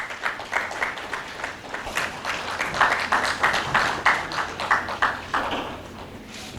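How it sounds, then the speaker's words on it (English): Audience applause at a valedictory session for newly recruited faculty members, a steady patter of clapping from a moderate crowd that rises and falls in waves for several seconds. "Please give a huge round of applause."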